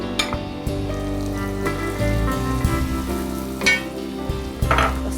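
A finely chopped large onion goes into chicken sausage frying for fried rice, with a steady close sizzle and occasional stirring scrapes and pops throughout, no voices.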